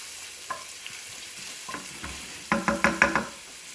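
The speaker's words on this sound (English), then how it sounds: "So just let those saute just for a minute or so before we add the other vegetables." Carrots sauteing in oil for a pasta jardiniere, a steady soft sizzle with faint scrapes, then a quick run of louder rhythmic stirring clatters near the end, close up with no voices.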